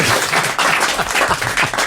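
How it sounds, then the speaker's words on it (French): Loud, dense studio audience applause on a French talk show, a burst of many hands clapping together at close range, filling the whole moment without pause. "j'aimerais que le public m'applaudisse"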